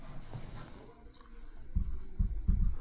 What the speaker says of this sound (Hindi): यहाँ पे मैं साइड में फार्मूला लिख देता हूँ